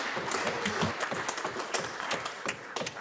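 Enthusiastic applause from members in the Scottish Parliament chamber at Holyrood, a dense, steady wash of many hands clapping for the full three seconds with no voices over it.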